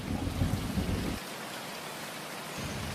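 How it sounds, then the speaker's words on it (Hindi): Heavy rain pours steadily in a cartoon scene, with a deep rumble of thunder rolling loudly through the first second before easing into a constant hiss of rainfall, no voices present. "तेज बारिश होने लगती है।"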